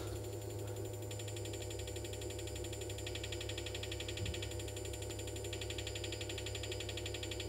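A large Kaizer DRSSTC 3 Tesla coil, tested after five years in storage, runs at about 400 amps with reduced pulse width. It gives off a steady, loud buzzing drone that continues without break.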